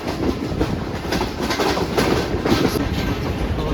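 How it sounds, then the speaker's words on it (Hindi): A Pak Business Express passenger train on the Karachi to Lahore run rolls steadily along the rails, with a continuous close rumble and faint rhythmic clickety-clack of the wheels and no voices. "तो लांडी रेलवे स्टेशन पहुंच रही है हमारी ट्रेन"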